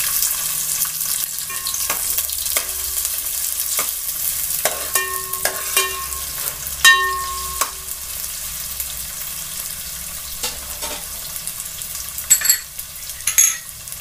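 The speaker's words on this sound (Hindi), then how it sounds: "मैंने गैस ऑन करके पतीला रखा, उसमें रिफाइंड ऑयल डाल दिया। और सबसे पहले मैं प्याज डालूंगी।" Onions frying in refined oil in a pot on a gas stove, a steady broadband sizzle with scattered metallic clinks and scrapes from stirring, fairly close and without talk.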